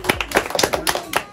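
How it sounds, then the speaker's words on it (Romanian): Hand clapping at a 12th birthday surprise with gift delivery, a quick run of close, irregular claps lasting just over a second. "Aplauze, aplauze,"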